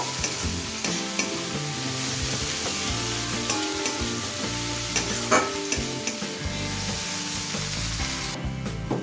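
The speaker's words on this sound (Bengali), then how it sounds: "পেঁয়াজটাকেও ভালোভাবে আদা রসুনের সাথে কষিয়ে নেব" Sliced onion sautéing in hot oil with ginger and garlic for a fish recipe, a steady loud sizzle broken by repeated scraping and clattering stirs of a spoon against the pan, no voices.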